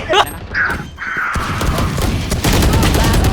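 Rapid gunfire in the shooter game Valorant, loud and dense bursts running almost continuously, with brief mechanical clicks and excited voices mixed in.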